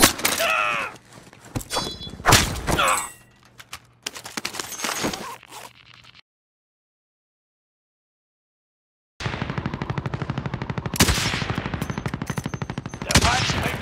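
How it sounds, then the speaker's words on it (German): Close automatic gunfire in the Call of Duty: Modern Warfare video game, bursts of rapid shots that stop for a few seconds of silence and then resume as a sustained loud volley. "Werde hier beschossen."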